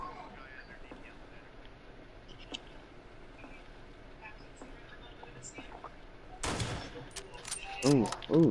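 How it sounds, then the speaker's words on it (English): Bursts of gunfire from a PS4 shooter game, a sudden loud fusillade near the end after quieter ambience, with faint voices nearby. "Ooh, somebody's getting shot at."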